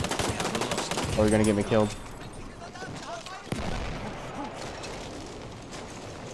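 Gunfire in Battlefield 1 multiplayer: rapid bursts of automatic fire and sharp shots crackle close by, with a loud single crack in the middle, while someone talks over the shooting.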